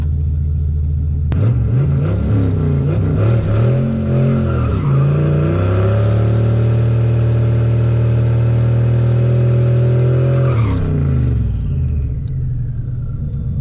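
Turbocharged Ford Foxbody drag racing a VW Golf R at a Friday night test-and-tune: a loud, close engine roar builds and holds at steady high revs for several seconds, then cuts off abruptly, with no talking.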